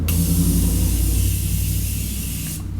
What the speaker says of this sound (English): Now I'm just going to set everything with my favorite setting spray.